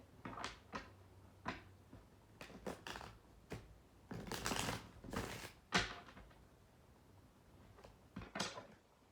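Tarot cards are shuffled by hand in a quiet room, a run of soft riffles and slaps in uneven bursts, faint and close with no talking.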